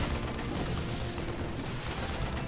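Marines in StarCraft II pour continuous rifle fire into a Protoss pylon, a dense unbroken rattle of shots that stays steady and fairly loud for the whole stretch.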